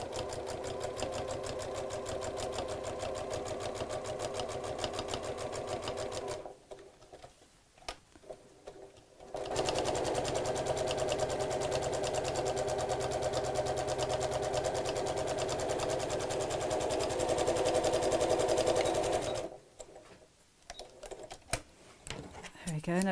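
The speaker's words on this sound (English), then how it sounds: "When you come to the little point there, stop with the needle down and then twist the whole thing around and carry on sewing." A sewing machine stitches a scalloped flap clutch bag in two long steady runs, with a pause between them where the needle stops down and the fabric is pivoted. The machine's close, even mechanical whir is mostly alone, with only faint speech.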